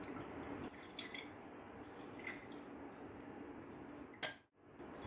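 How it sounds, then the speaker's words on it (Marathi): A medium lemon is squeezed for lemon sherbet, with soft juice drips and faint clinks close by, steady and quiet, then a brief louder knock near the end. "त्यासाठी एक मीडियम साईजचा लिंबाचा रस"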